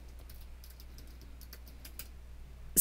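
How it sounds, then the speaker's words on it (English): Password typed on a computer keyboard while signing in to an online account: a run of soft, irregular key clicks, faint and fairly close, against a quiet hum, with no voices. "I'm going to type in my password."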